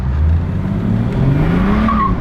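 A stage 2 tuned car making 273 hp drifts on a road, its engine droning loudly as the pitch climbs steadily, with tires skidding and squealing close by and no voices.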